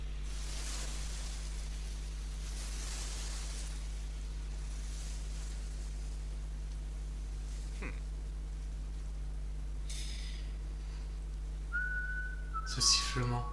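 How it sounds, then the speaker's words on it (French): A faint whistling tone rises late in the clip over a steady low hum, part of a Valkyrie Apocalypse fight between Kojiro and Poseidon; no speech is heard. "Ce sifflement."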